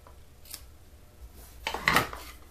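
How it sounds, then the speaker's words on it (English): Paper snips trimming a ribbon for a handmade note card give a soft snip, then a louder, sharper crisp cut near the end, close up with no talking. "With my paper snips, I'm just going to give this a little trim."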